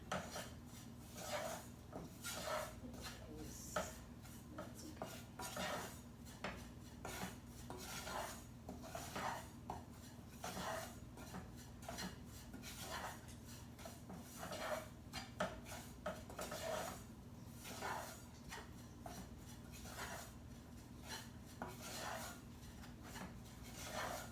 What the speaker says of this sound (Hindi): देखिए इसको धीमा ताप पे चलाते रहना है, हिलाते रहना है।